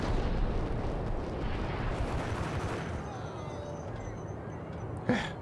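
Gunfire aimed at the player in Max Payne: a dense, rumbling clatter of shots and impacts that thins out, then one sharp close crack near the end.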